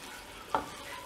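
A spoon gives one short scrape while chicken biryani masala with yogurt is stirred in a pan, set against a low, steady background sizzle, close and quiet, no voices.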